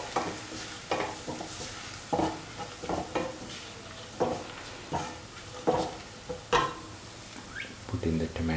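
Spices, coriander powder, turmeric and salt being stirred into a frying pan for a mushroom and ash gourd stew, with repeated scraping strokes of a spoon over a soft sizzle, near and fairly quiet.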